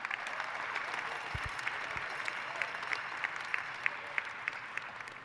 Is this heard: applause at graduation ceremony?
yes